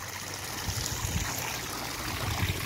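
A small garden waterfall feature runs steadily, giving a continuous close rush and trickle of falling water with no pauses.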